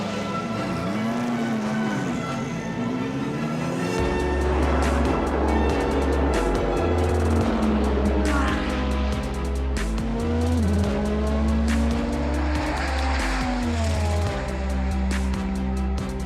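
Delta Wing race cars roar past one after another, engines whining up and down in pitch with rising and fading passes, loud and continuous.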